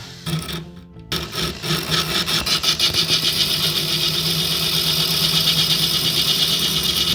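A power grinder cuts a groove into the head of a stripped bolt on a new stove, a loud, continuous abrasive whine that stays steady and dense throughout after a brief start-up.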